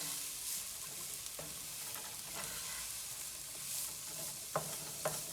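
Chopped carrots browning in a hot pan for a vegan bolognese, a soft steady sizzle with a few scraping stirs near the end, close and moderately quiet, no voices.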